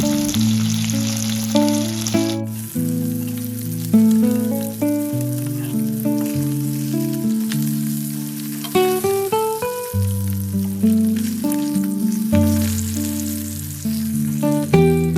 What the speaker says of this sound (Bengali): কড়াইতে তেলটা গরম হয়ে গেলে নুন হলুদ মাখিয়ে রাখা মাছ যেটা আছে সেটাকে আমরা ভেজে নেব।